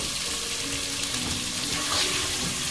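Onions sauté in a pan for masala dosa filling, giving off a continuous broad sizzling hiss that holds steady throughout.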